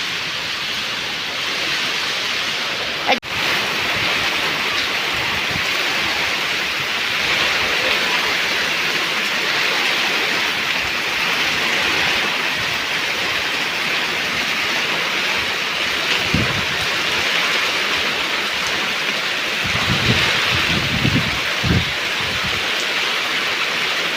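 Heavy rain pours with a windstorm over a village house with tin sheet roofing, a steady loud hiss with a few scattered thumps and one sharp knock, no talk.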